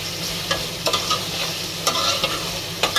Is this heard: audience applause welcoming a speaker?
no